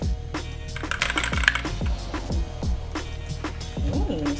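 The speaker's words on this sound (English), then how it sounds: "I got a brand new keyboard." Keys clack on a brand new computer keyboard in quick irregular bursts of sharp close taps, with background game sounds and a voice faintly underneath.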